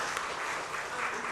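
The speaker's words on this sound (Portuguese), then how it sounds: "Uma salva de palmas para o João Francisco." Dense, steady applause fills a solemn session hall as an honoree is celebrated, a brief unbroken wash of many hands clapping at once with no voices over it.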